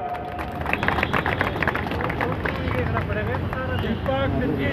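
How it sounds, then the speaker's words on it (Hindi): An audience at an awards ceremony in Delhi gives steady, moderately loud applause to welcome newly appointed officers, with crowd murmur and voices mixed in. "जोरदार तालियों से स्वागत।"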